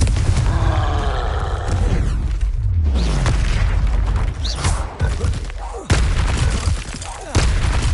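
Booming blasts of the Confringo explosion spell in the video game Hogwarts Legacy, several heavy low bursts in quick succession with roaring tails, loud and close, mixed with a voice shouting spell names.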